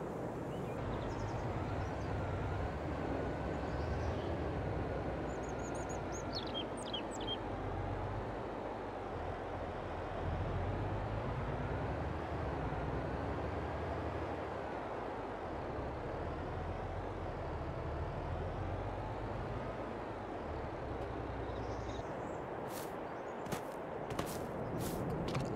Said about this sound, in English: I think I can hear a lorry coming.